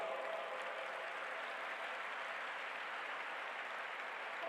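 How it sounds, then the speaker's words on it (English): Faint, even applause from the audience at the G20 Interfaith Summit at the World Peace Dome welcomes Dr. Alok Srivastav to the stage, a distant wash of clapping that holds steady without any talk. "With a big round of applause, please welcome Dr. Alok Srivastav"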